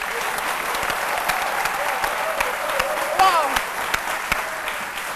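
Rock-show style applause pours from a crowd at the Palais de la Culture, dense and sustained clapping with scattered cheers, evenly loud throughout.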